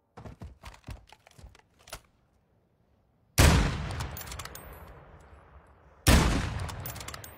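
Gunfire in a video game: two loud, sharp shots a few seconds apart, each with a long fading tail, after a run of light clicking taps.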